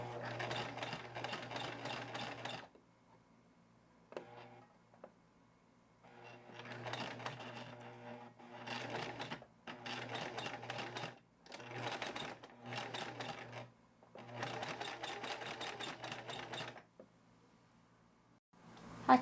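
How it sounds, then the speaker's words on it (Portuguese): Bursts of a sewing machine stitching fabric, several runs of rapid steady needle chatter separated by short pauses, close and clear, with no talk. "Abaixo o pé calcador e continuo a minha costura."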